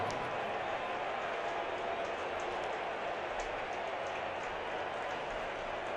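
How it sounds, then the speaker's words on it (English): A baseball stadium crowd at Citi Field roars from Murphy's bleachers after a postseason home run, a steady, broad wash of cheering heard from a distance under commentary. "The crowd comes alive at Murphy's bleachers."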